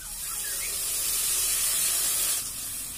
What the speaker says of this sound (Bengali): সামান্য একটু ঝোল দেব।